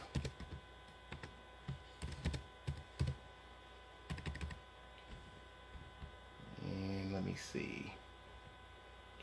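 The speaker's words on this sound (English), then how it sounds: "I'm gonna type in I'm live." Bursts of typing on a computer keyboard come in short clustered taps, close and fairly quiet, with a person speaking briefly near the end.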